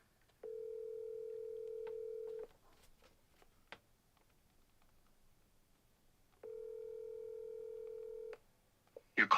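A phone line gives two steady electronic ring tones, each about two seconds long and separated by a quiet gap with small clicks, before the call goes to voicemail, heard faint and close with no talking.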